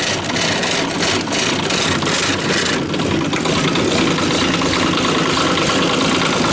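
A Kubota K008 mini excavator's engine idles loudly and close by with a steady, heavy rattling vibration throughout, and nothing else is heard over it.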